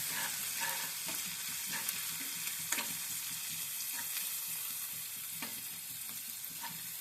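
Ginger and garlic paste sizzles steadily in a hot pan while a spoon stirs it, with light scraping clicks scattered through the constant frying hiss. Nobody speaks.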